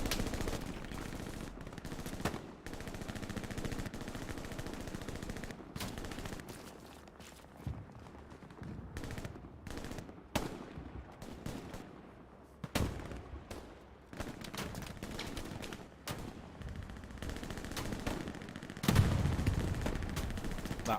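Machine gun fire and other gunfire in the World War II shooter game Hell Let Loose, with dense, continuous bursts and heavy booms filling the whole span, loud and close, with no talk.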